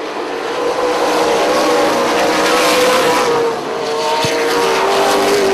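Late model stock cars roar past on the front straightaway of an oval track, one car's right-side sheet metal flapping loose, a loud continuous engine drone with passing swells and no talk.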